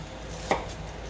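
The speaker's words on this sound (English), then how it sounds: "as you're chopping down" A single crisp knife chop strikes a cutting board while dicing food into medium pieces, a brief sharp knock against a soft steady background.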